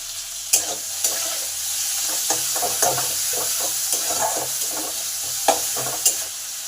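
Chopped tomatoes with salt frying in a pan: a steady, close sizzle with a spoon scraping and stirring at irregular intervals, and no voices.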